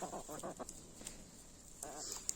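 A hen clucks in short bursts near the microphone, with quiet outdoor background noise.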